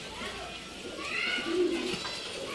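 Giribaz pigeons at a Bangalore seller's loft coo softly under steady background noise and someone talking nearby.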